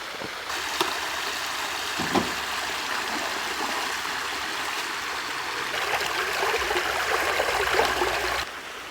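Spring water runs through a small model Roman aqueduct in a steady, continuous trickling flow, close and fairly loud, with a few faint knocks and no talking.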